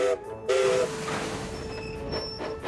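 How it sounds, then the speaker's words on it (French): A small green steam locomotive couples to a goods wagon, heard as a loud metallic clank followed by a steady hiss of steam and faint, thin whistle-like tones drifting over a rumbling railway background. "La petite locomotive verte se fait aussitôt atteler au wagon de Barnabé."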